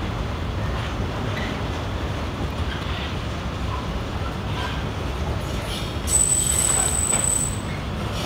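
Long train rolling past on a railway line, a steady broadband rumble of wheels on track lasting throughout, with a faint high wheel squeal appearing near the end.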